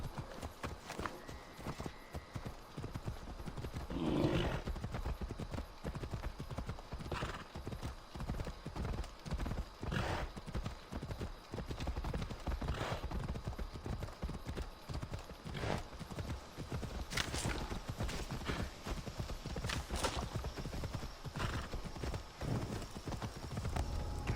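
A horse gallops in the video game Assassin's Creed Odyssey, with quick rhythmic hoofbeats pounding steadily throughout and a brief whinny early on.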